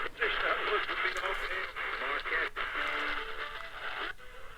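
A Kaito KA321 portable AM/FM shortwave radio plays a station clearly, with music and a voice coming through its small speaker at moderate volume.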